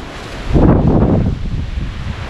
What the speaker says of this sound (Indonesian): karena anginnya kenceng banget kita itu di dalam hutan